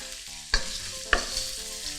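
Udon noodles and bacon frying in a pan for yaki udon, a steady close sizzle with two sharp clatters of utensils against the pan.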